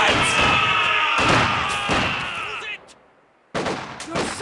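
Machine gun fire in the World War II strategy game Company of Heroes 2, a loud, dense burst of rapid shots with a heavy thud, cutting out briefly before another sharp burst resumes.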